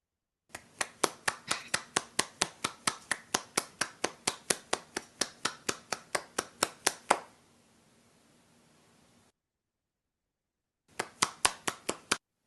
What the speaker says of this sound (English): So I made a video of a single hand clapping.